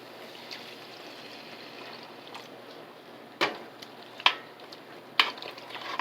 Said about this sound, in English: I'll add my beef broth.